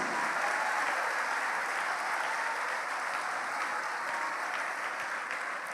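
A church congregation applauds during a prayer service, a broad continuous wash of many hands clapping, loud at first and slowly easing over several seconds with no voices on top.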